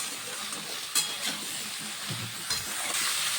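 Ridge gourd and potatoes are stirred in a pan with salt and turmeric, giving a soft, low sizzle with a few scraping clinks of the spoon against the pan.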